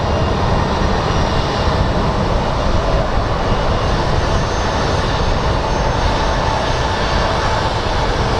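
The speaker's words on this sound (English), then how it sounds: "Now let's go take a look at our Airbus that is rolling out right now." Broadband jet roar from an Airbus airliner rolling out on the ground at Phoenix Sky Harbor International Airport, a steady, loud, continuous engine drone with no voices present.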